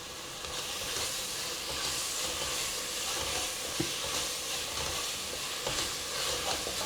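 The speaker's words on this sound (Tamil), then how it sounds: "இந்த மாதிரி வதங்கிருச்சுன்னா சவுண்டு கேட்கும் ச சவுண்டு கேட்கும்" Goat intestine sizzles and fries steadily in a pan for Tamil-style kudal kuzhambu, a continuous close hiss with occasional small pops and stirring, no talk.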